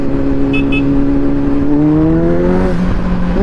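Motorcycles, including a Kawasaki Z900, riding fast through traffic, with a loud steady engine drone close by and a second engine note rising in pitch alongside it as they accelerate together.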